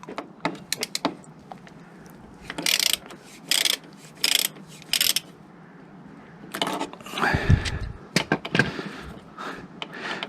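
A ratchet works loose the skid plate bolts on a KTM 790 Adventure motorcycle, giving several close bursts of rapid clicking with short pauses between and some metallic clanks.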